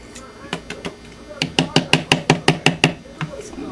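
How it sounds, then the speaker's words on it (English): A whisk beats eggs and liquids for cinnamon bread in a bowl, knocking sharply against the sides in a quick, even run of about a dozen close clicks after a few slower taps. "I'm gonna use a whisk here to beat in my liquids"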